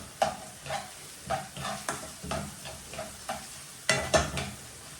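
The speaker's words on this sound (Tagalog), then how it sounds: "Ayan, lulutuin ko po mabuti yung sibuyas." Onions for chicken asado siopao filling sizzle in a pan while a utensil stirs them, giving regular scraping strokes about once a second over a steady close frying hiss.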